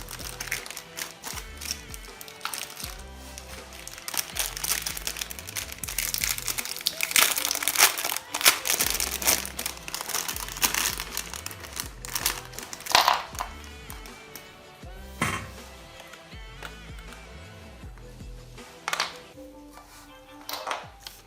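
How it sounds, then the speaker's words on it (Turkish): Crinkly plastic packaging for a replacement laptop hinge is torn open and handled up close, giving a steady run of crackling and rustling bursts with some harder taps, with no talking. "Ve diğer paketi de açalım."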